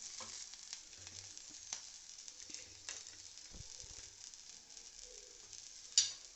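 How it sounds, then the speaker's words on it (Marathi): Red chillies fry in a pan while being stirred, a faint crackling sizzle broken by scattered soft pops and occasional scrapes, with one sharper pop near the end and no voices. "हलवत राहायचं सारखं उडतात अशा फुटतात त्यामुळे सारखं हलवत राहायचं"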